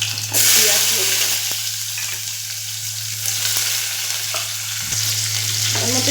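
Crushed ginger, garlic and onion frying in white oil, a steady bright sizzle with occasional stirring scrapes over a low constant hum.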